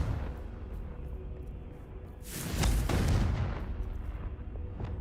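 A Confringo fire spell blast in Hogwarts Legacy rolls out as a single deep, booming burst, swelling loud midway and fading into a rumbling tail over ambient game background.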